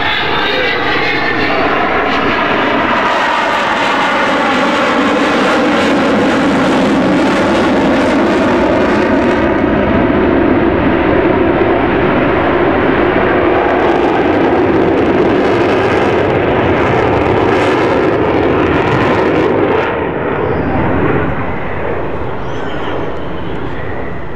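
Avro Vulcan XH558 jet bomber accelerating away at Farnborough International Airshow 2012, its four engines giving a loud, sustained roar with sweeping howls that shift in pitch as it climbs and passes, with no talk.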